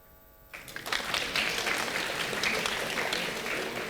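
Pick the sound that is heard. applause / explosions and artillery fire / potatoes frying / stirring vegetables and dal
applause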